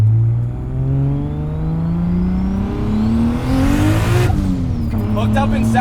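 An 876 whp MK3 Toyota Supra with a boosted 2JZ engine pulls hard in second gear, its loud exhaust note climbing steadily in pitch before a brief shift-like break, heard from inside the car.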